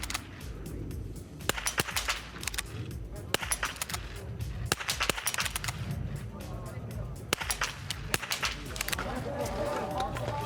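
Sharp rifle shots crack out irregularly at a distance at a biathlon shooting range during a race, several in quick succession, over a constant murmur of background noise.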